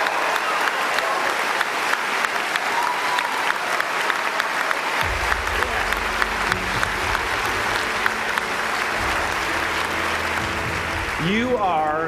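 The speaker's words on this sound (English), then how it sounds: "Give yourself a round of applause," Graduates clapping in a round of applause at a commencement ceremony, sustained crowd clapping that grows fuller midway, with a voice rising over it near the end.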